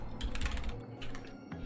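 Fingers typing on a computer keyboard in quick, uneven bursts of clicks, steady and fairly close, with no talking.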